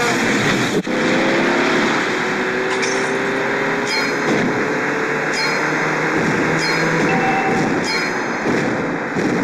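A car engine in a video game holding a steady, loud drone as it accelerates, with a brief dip near the start, then a continuous roar with faint rising tones and clicks throughout.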